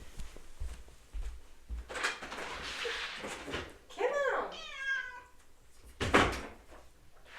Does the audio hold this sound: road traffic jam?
no